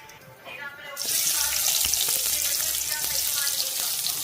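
Sliced onions drop into hot oil in an iron pan and burst into a loud, steady sizzle that carries on with light crackling after a quieter start.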